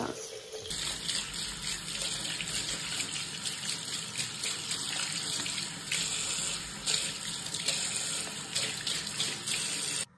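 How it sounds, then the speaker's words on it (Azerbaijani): Kitchen tap running steadily into a sink, a close, continuous hiss and splash that starts abruptly after a brief click and stops sharply at the end. "Suyu açıram"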